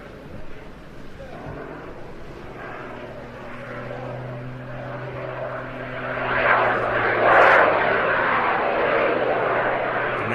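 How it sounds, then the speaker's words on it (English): Aircraft engine roaring steadily during a hovering manoeuvre at the Jersey International Air Display, a loud sustained drone that swells near the end, with a commentator talking over it. "Into another of those hovering manoeuvres. 2 types of hover in this aircraft."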